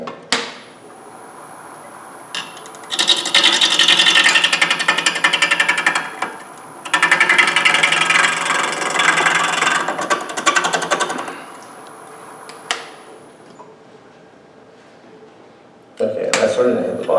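A chisel carves wood spinning on a lathe in two long bursts of harsh, rapid chattering, separated by quieter pauses, with another brief burst at the very end.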